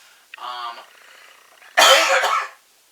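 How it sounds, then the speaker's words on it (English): A few close coughs from a person who is ill: a short raspy one, then a louder harsh burst, with quiet between them. "I'm sorry about the coughing throughout this video."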